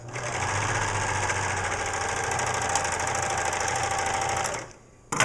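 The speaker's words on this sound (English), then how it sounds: "We can trim it right there. Isn't that fun? I love a serger." A serger machine trims and overlocks fabric, running in a fast, steady mechanical whir with rapid rhythmic clatter for several seconds before stopping abruptly, followed by a brief click.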